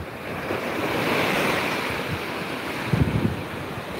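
Black Sea surf at Akliman beach in Sinop, a broad washing hiss of waves rolling onto sand with wind buffeting the microphone and a few low thumps near the end.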